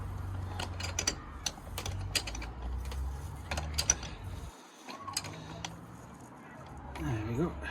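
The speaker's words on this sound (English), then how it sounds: "Then you get your ring spanner and you tighten it up like so" A ring spanner tightens the nut on a rear shock absorber of a Skoda Octavia, giving sharp metallic clicks and ratcheting ticks in irregular bursts, close by, with someone talking over them.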